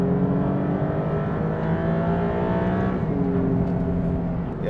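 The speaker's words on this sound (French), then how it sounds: "le bruit reste quand même celui d'un V6" Maserati MC20 V6 engine and exhaust on a racing circuit, a steady loud drone with layered harmonic tones that shift slightly as revs change, continuous and close with no talk over it.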